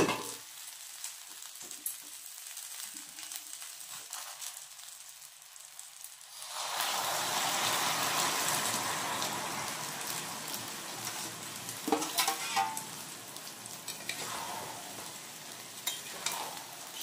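Jungle plums (kul) being stirred in hot oil with jaggery, first a quiet scraping then a loud, steady sizzle of frying as the pan heats up, with no voices over it.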